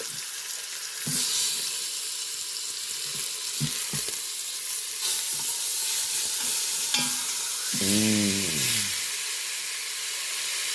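Pork chops searing in an Instant Pot: a bright, steady sizzle and hiss throughout, with a few clunks as the chops are flipped and a short sliding scrape near the end.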